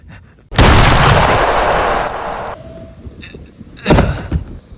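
Loud gunshots in a plush-toy action scene, a sharp blast followed by a sustained roar of fire, then another burst a few seconds later, close and heavy, with no talking.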